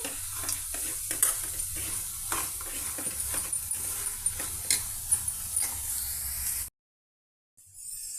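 Potato pieces frying in plain oil in a pan, a steady dense sizzle with occasional stirring clicks and scrapes, close and continuous until it cuts to near silence near the end.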